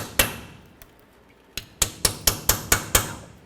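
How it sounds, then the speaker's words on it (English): Light hammer tapping on rusted bolts at the rear wheel of a 1999–2013 Chevy Silverado: a few scattered metallic taps, then a steady run of six sharp, ringing strikes, close and loud. "Just go over these bolts and tap it on there."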